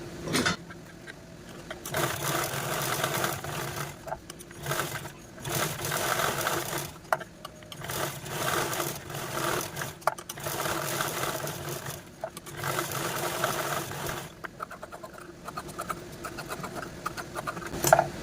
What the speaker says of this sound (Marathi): तर चला आता आपण यावरती क्विंटिंग करून घेऊया